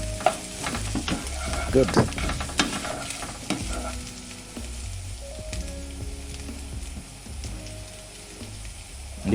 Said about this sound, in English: I let it fry with the onions. So I stir a bit to mix in the oil and let it fry